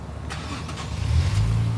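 A car engine turns over and settles into a deep, rumbling exhaust note that swells partway through and holds steady, close and fairly loud, with no talking.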